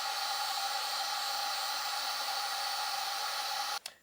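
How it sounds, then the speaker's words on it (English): A heat gun blows on wood with a steady, loud whooshing hiss and fan whine that holds evenly for nearly four seconds, then cuts off abruptly with a brief clunk and tailing noise. "And here I have a heat gun,"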